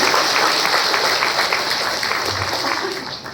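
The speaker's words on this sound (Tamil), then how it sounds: "உங்கள் அனைவரின் கரகோஷத்தோடு" Audience applause at a farewell function for the principal of Kongu Engineering College in Perundurai, a loud dense clapping that holds steady throughout and eases off slightly at the end.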